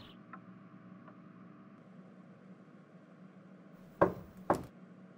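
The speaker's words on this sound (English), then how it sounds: "You, knock." Two sharp knocks land close together near the end, loud and distinct over a quiet, faintly humming background.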